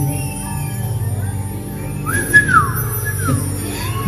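Whistling from the audience at a live concert in Kolkata's Nazrul Mancha hall: a few short, rising and falling whistles stand out over a steady background of music and crowd noise.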